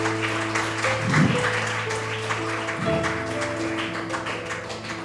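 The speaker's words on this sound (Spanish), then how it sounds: "Dele palmas al Señor" A church congregation clapping during a Spanish-language service, a continuous patter of many hands over a steady low sustained tone, likely an organ or keyboard, with a couple of brief low swells rising through it.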